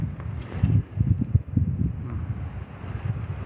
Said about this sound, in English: Wind sure is picking up.